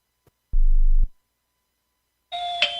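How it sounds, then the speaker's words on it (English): A two-part electronic chime sounds, a low buzzing tone followed after a pause by a brighter ringing tone, clear and alone. "the doorbell rings"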